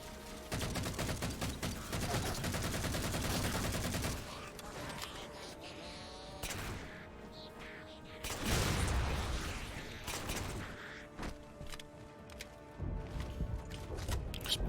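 Pistol fire in the Halo 4 video game crackles in bursts of shots over a dense backdrop of game music and effects, loud at first, then easing before more shots break through, with a voice speaking over parts of it.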